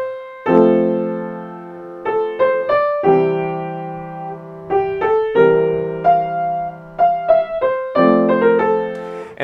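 Piano plays a pop tune with sustained block chords in the left hand under a right-hand melody, the phrases ringing out steadily and clearly at moderate volume with no talking.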